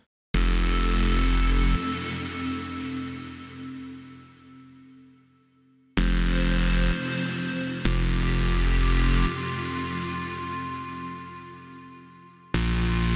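A soloed distorted white noise bass synth made in Reason 8 plays sustained buzzy bass notes with a hissy top, each decaying before abrupt new attacks, close and dry with no voices.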